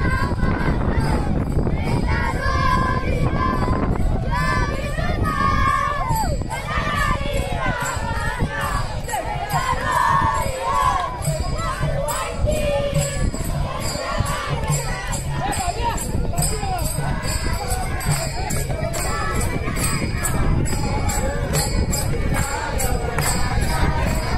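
A dense, loud crowd roars continuously at a dindi pilgrimage procession of the Katradevi Sagve group, with chanting and cheering voices blending into a steady wall of sound from start to finish.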